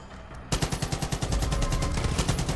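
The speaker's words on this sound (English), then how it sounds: "Gunfight is starting. Guns fighting's gonna start." Rapid video game gunfire in Far Cry 5 erupts after a brief quiet start, sustained bursts of automatic shots pounding loudly and continuously through the rest of the moment.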